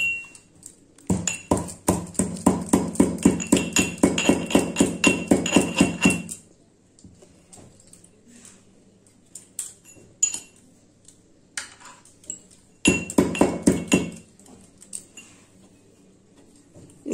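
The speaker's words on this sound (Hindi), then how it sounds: "मैंने मोमदस्ता ली है और इसमें अदरक डालकर इसे कूट ले रही हूँ।" Fresh ginger is pounded in a mortar with a pestle: rapid bursts of sharp metallic clinking strikes, first a long run, then scattered single taps and another short flurry, close and ringing.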